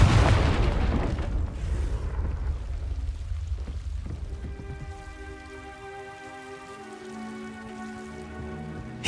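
A loud blast rumbles out at the start of a Confringo spell in Hogwarts Legacy, a heavy booming burst that decays over a few seconds into a lingering ringing tonal tail.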